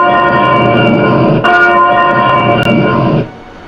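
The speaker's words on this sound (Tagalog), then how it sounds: "5 seconds bell after the 3 distinct strokes." Ship's bell sounded as a restricted-visibility fog signal, rung loud and rapidly in a continuous ringing that carries on for about three seconds before cutting off, with a brief stutter partway through.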